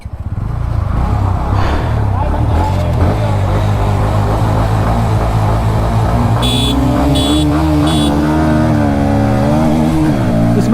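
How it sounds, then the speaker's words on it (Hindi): Bajaj Pulsar NS 160 2024 motorcycle accelerating hard in a drag race, its engine note climbing loud and steady through the gears, with a short series of high beeps near the end and speech over it. "हम चलाने जा रहे हैं NS 160 2024 एडिशन"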